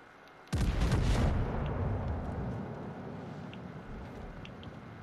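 Naval shells firing in the World of Warships: Legends video game, from a high-explosive King George V battleship: a sudden loud deep boom that rolls into a long, rumbling decay lasting several seconds, with no talk.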